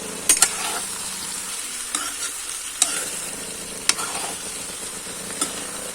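Potatoes fry and are stirred in a small kadhai, giving a continuous bright sizzle over a low hum, punctuated by several sharp metallic clinks of the spoon against the pan, no talking.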